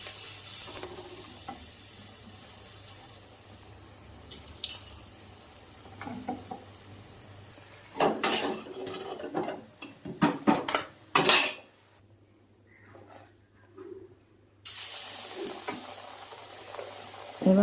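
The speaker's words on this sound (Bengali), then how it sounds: "এইভাবে সবগুলো আমি ভেজে নেব।" Battered fritters, brinjal slices and potato pakoras fry in mustard oil in a pan, a steady sizzle with repeated clinks of utensils and pan scrapes, louder bursts midway and a brief near-silent gap before the frying resumes.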